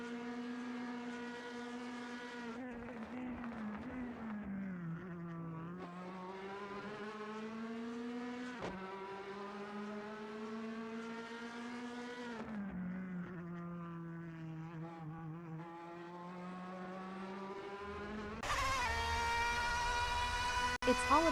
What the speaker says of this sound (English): There's not much better than sitting near here and watching the cars speed by.